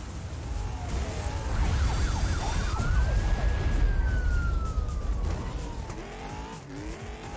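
A fire truck racing in the Cruis'n Blast arcade game, its siren wailing in long rising and falling sweeps over a steady roaring engine, loud and close throughout.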